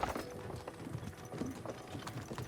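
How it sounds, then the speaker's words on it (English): Horse hooves clip-clop at an unhurried pace as the animals pull a cart in Kingdom Come Deliverance 2, the uneven clopping close and moderately loud over a soft creak of the moving vehicle. "don't you think maybe we could make the horses go a little faster?"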